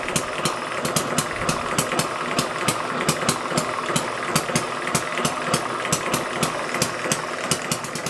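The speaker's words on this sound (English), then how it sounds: "actually getting the old hit and miss engine to do some work" An old Chinese hit and miss engine runs while powering a plasma ball, sharp regular firing beats in a steady rhythm over a mechanical clatter and hum, recorded close.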